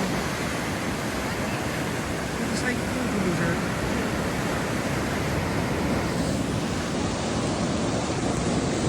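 River rapids rush at Riverside State Park in Spokane, a loud, steady roar of churning whitewater that holds constant and close throughout.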